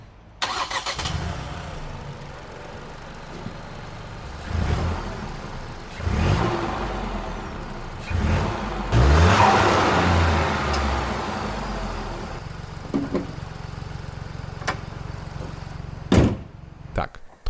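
Ford Puma ST with a 1.5-litre EcoBoost three-cylinder turbo engine making 200 hp: door thuds, then the engine cranks into life and revs in several close, rising bursts before settling to idle, with faint voice at times.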